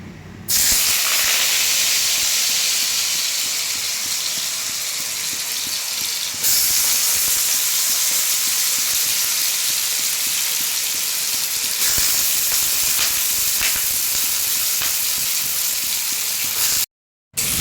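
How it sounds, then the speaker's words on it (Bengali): Steady, loud sizzling hiss of food frying in hot oil, continuous throughout with no talking. "চলো আলু ভাজাটা এখন ভেজে নিই"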